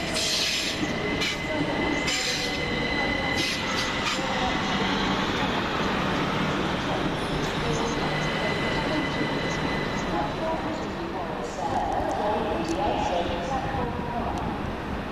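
Class 455 train 455807 bound for London Bridge at East Croydon station, its wheels squealing in high sustained tones over a loud close rumble, with station sounds and a voice faintly in the background.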